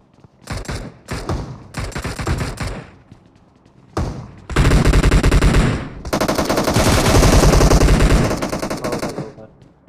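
Loud, close automatic gunfire from a video game shootout at a military base: short bursts, then long sustained rapid fire, with brief pauses between.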